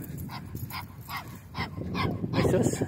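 Small brown and black abandoned puppies let out a quick run of yips and little barks close by in an outdoor spot, over background noise while a person talks.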